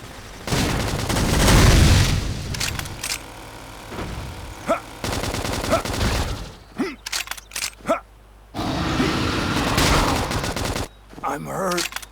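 Rapid gunfire from the Fire Carnival attack in Xenoblade Chronicles X Definitive Edition on Nintendo Switch, loud dense bursts of shots and booms over several seconds, broken by brief gaps, with combat voices calling out between volleys.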